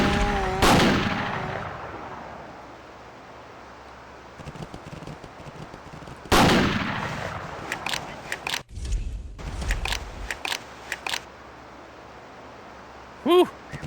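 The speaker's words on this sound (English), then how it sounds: "I feel really like my life is in danger fucking shooting these deer with this shotgun" Shotgun blasts while hunting deer in a PSP game: two loud, booming shots several seconds apart, each trailing off, with smaller clicks and game noises between and talking over parts of it.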